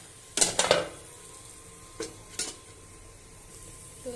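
Spatula stirring food in a cooking pan, a few sharp scraping clinks in quick succession, then two more isolated scrapes over a faint background hum.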